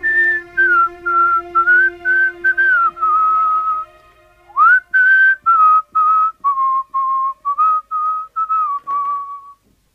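A man whistles an Italian song, a clear close melody in short phrases with brief breaths between them, played alone with no talk.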